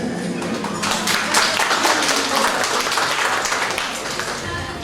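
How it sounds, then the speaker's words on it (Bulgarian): An audience at a family celebration bursts into sustained applause, a dense wash of many hands clapping that swells after the first second and holds steady, with some voices mixed in. "Така че искам да чуя най-горните аплодисменти за тях."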